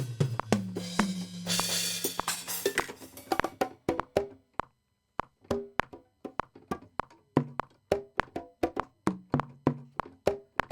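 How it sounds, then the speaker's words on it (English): Programmed drums with hi-hat in Logic Pro X, a short sustained wash followed by a brisk run of crisp, regularly spaced electronic hits and ticks, clear and close. "So these are my drums, hi-hat."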